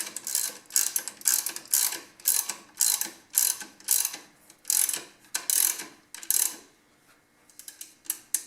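A hand ratchet tightens a loose alternator drive belt on a car or truck, giving bursts of rapid, close mechanical clicking in regular back-and-forth strokes, with a short pause near the end before a few more clicks.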